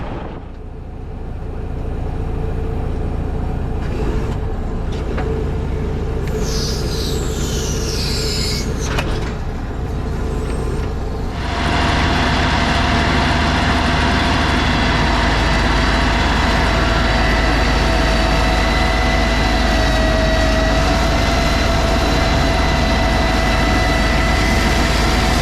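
A hay mower's engine drones steadily while cutting a cover crop on a hot, windy day, a loud continuous mechanical hum that thickens and grows fuller about halfway through, with wind buffeting throughout and no talking.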